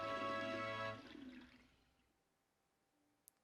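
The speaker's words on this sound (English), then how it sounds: "and it drains the water" Water drains out of a cave in the Pikmin 2 video game in a loud rushing gurgle that quickly fades to a soft trickle and then near silence, ending with a brief click.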